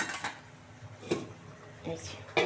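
A metal lid clatters onto a pan of fish tel-jhal curry, several sharp clanks and scrapes of cookware spaced across a couple of seconds, close and moderately loud.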